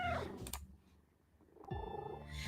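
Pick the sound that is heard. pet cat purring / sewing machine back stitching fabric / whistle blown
pet cat purring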